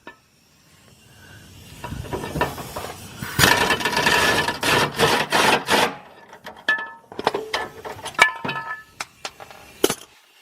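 A ratchet wrench tightens a fuel tank vapor vent check valve part beneath a 1995-2000 Ford Explorer on a lift, sounding as irregular bursts of quick metallic clicking with brief pauses and clinks between them.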